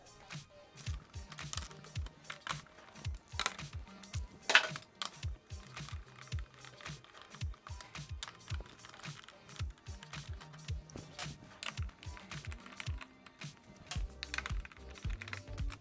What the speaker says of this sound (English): We'll now grab an 8mm socket and remove these 4 fasteners.